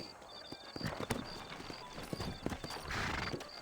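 Horse hooves clip-clop in a Western game set around New Ulster, a quick run of sharp, evenly spaced knocks over soft background ambience, fairly quiet.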